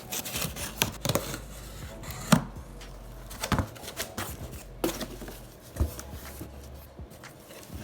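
Cardboard box of Cash App merch with stickers on it being torn and opened up close, a string of sharp crinkling, ripping and scraping bursts at an uneven pace, with no talking.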